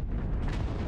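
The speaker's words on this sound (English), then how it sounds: "Artillery strike activated." Artillery strike explosion in the MechWarrior game, a dense rumbling blast filling the short moment with heavy low-end roar.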